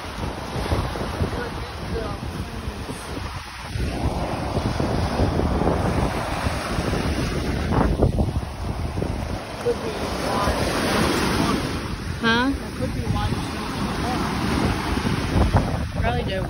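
Ocean surf and gusting wind at the shore, waves washing in continuously with wind buffeting the microphone, fairly loud and steady with a few faint distant voices.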